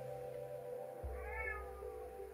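A cat gives a single drawn-out meow that rises and falls, fairly faint against a steady background hum, with no talking.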